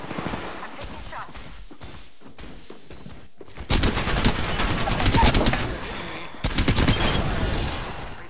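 Gunfire in the shooter Apex Legends: bursts of rapid automatic fire and loud repeated shots, dense and close, starting after quieter scattered noise and running almost unbroken to the end.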